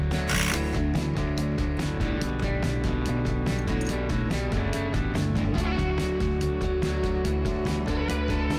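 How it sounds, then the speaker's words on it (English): Ratchet wrench clicking steadily as it spins the nut off the pinch bolt on a Volkswagen Jetta front hub carrier during strut replacement, a close, continuous run of rapid pawl clicks with no talk. "The hub carrier has a pinch bolt that clamps the strut in place, so that pinch bolt needs to come out."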